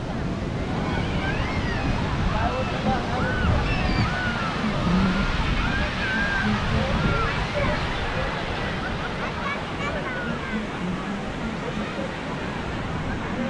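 Steady broadband wash of surf rolling onto Ganpatipule beach in India, continuous and fairly loud, with faint voices of tourists and wind mixed into the background.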